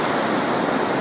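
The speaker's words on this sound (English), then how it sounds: "Beautiful waterfall." Loud, continuous rushing hiss of a waterfall in Snowdonia, close by and steady, with dense broadband splashing and no voices.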